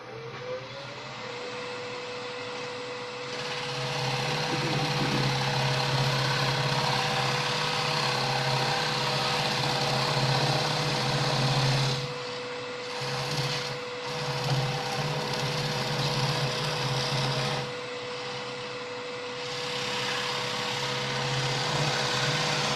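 A wood lathe spins steadily as a parting tool cuts into the turning stock at a woodturners' club meeting, a continuous whirring drone with a low hum, a few short dips where the cut eases off.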